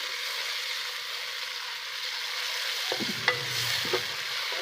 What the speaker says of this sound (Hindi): बस इसको आप अच्छे तरीके से हम फ्राई करेंगे।